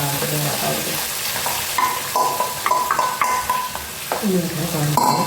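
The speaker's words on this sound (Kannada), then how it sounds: "ಹಾಕಿದ್ಮೇಲೆ ಸ್ವಲ್ಪ ಆಡಬೇಕು" Chopped capsicum sizzling in a pan for capsicum rice while a spoon stirs and scrapes it, with steady frying hiss and repeated metallic clinks close up.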